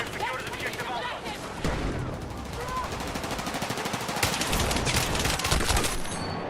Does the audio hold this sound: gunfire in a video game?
yes